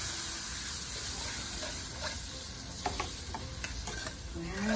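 A pineapple juice sauce simmers and sizzles steadily in a pan, with faint stirring clicks and scrapes over the constant bubbling hiss.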